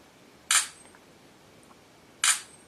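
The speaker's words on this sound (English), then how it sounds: "It makes a loud shutter sound." Two sharp, loud camera shutter clicks from a Motorola Droid Razr M smartphone, spaced nearly two seconds apart, each a crisp burst with a quick decay over quiet background.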